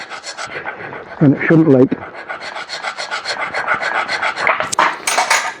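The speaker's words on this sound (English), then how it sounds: "I'm just going to give it a bit of a clean up with the file" A metal file rasps back and forth across a Briggs & Stratton V-twin engine surface, cleaning it up for sealant, in steady repeated strokes close by, with someone talking over much of it.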